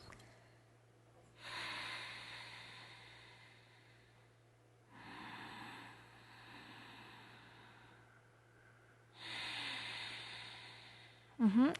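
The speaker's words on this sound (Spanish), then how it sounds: "es usando la respiración de la garganta o la respiración de la laringe" A person demonstrates throat breathing, slow audible inhales and exhales drawn through the larynx, three long hissing breaths close to the microphone separated by quiet pauses, ending in a brief voiced sound.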